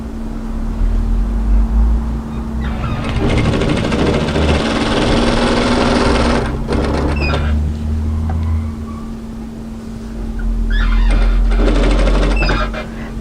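Sewing machine stitching a hooded jacket seam with a funnel collar, running in steady loud bursts with a pause between runs and a constant low hum underneath.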